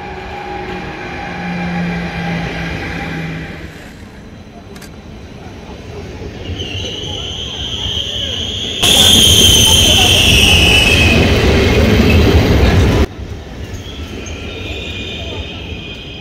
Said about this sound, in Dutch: De trein naar huis is er.